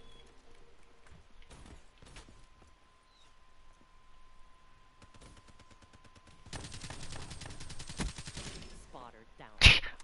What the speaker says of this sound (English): Waste the whole fucking clip shooting that ahead.